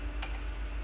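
A few quick, light keystrokes on a computer keyboard while entering a MySQL command, faint clicks over a steady low background hum.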